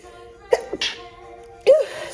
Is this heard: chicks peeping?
no